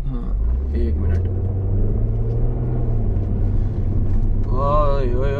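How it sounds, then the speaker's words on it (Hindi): A car rumbles steadily as it drives through roundabouts, its engine drone loud and close from inside the cabin. Someone talks over the noise, and a brief rising whine comes near the end. "गाड़ी निकल लें दो राउंड अबाउट पे"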